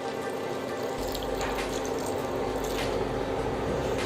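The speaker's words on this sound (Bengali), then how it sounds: "200 ml ভিনেগার দিচ্ছি" Vinegar poured into a pot of cooking green mango pickle, a steady wet pouring and splashing that runs continuously and fairly close, with no talk over it.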